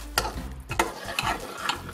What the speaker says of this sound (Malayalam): ഇതൊന്ന് ഉടച്ചെടുക്കാം.